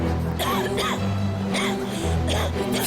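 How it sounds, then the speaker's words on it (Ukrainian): Several rough coughs in a row over a steady low hum, close to the listener, with brief gaps between bursts. "всіх, мабуть, дратує мій кашель"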